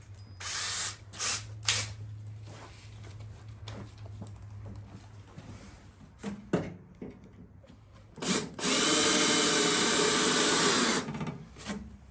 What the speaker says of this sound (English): So I will just drill the majority of these out.